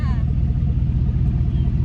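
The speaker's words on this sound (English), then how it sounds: "She's a nice little purr to her." Chevrolet Silverado SS truck idling with its muffler cut off, a deep, steady low exhaust rumble held close and loud throughout, with a brief voice at the start.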